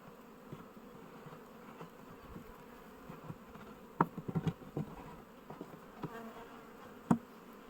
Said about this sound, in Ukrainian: Ось скільки бджоли